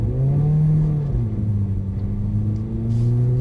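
Mercedes-Benz car on a driving-experience track accelerating at full throttle, a loud, steady engine drone with rising harmonics that dips briefly near the midpoint, then climbs again.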